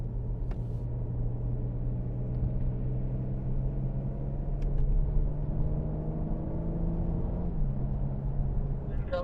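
BMW M4 lapping a race track, heard as a steady, close engine drone with a low whine and road rumble that dips briefly and shifts pitch near the end, running continuously throughout.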